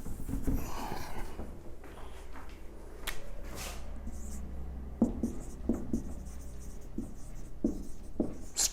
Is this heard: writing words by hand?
yes